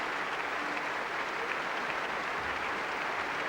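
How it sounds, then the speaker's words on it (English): Concert audience in a hall applauding enthusiastically at a 1995 New Year's Day concert during the encores, a dense, steady wash of many clapping hands, loud and unbroken throughout with no voices. "Meta returns to the rostrum to acknowledge the tremendously enthusiastic applause of the audience"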